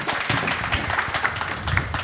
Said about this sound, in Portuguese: Uma salva de palmas, então, para os dois aqui